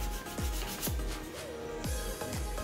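Rough-grit sandpaper rubs back and forth across helmet armor in close, steady strokes, a scratchy repeated rasp with low knocks between passes and no talking.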